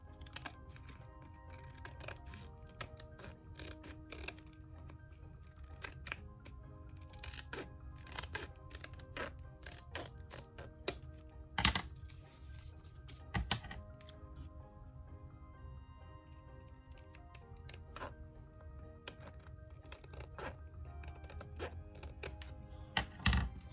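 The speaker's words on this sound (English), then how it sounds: "So let's just use scissors then and just trim it off." Scissors trimming the thick edge of paper for a journal page, faint scattered snips and clicks over a quiet room, with a few louder taps.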